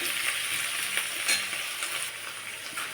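Vegetables sizzling in a hot pan for khichuri, a constant hissing crackle up close with occasional stir scrapes and no one talking.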